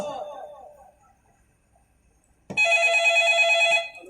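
A telephone rings once in a bright electronic burst of a little over a second, loud and near, after a short stretch of speech and a silent pause.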